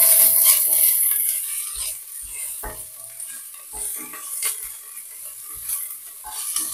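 Onion and green chili sizzle steadily while frying in a hot pan, with repeated scraping stir strokes and light metallic clinks from a spatula, close and continuous without talk.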